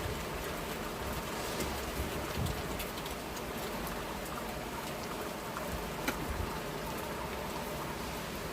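Steady rainfall on a rainy day, a constant close hiss of drops with scattered sharper patters striking surfaces, no speech.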